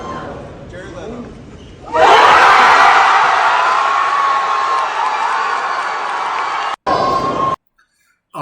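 Hall H audience at Comic-Con erupting into loud, sustained cheering, whoops and screams after a reveal of Robert Downey Jr. as Dr. Doom, following a stretch of quieter talk and crowd murmur, then cutting off abruptly near the end.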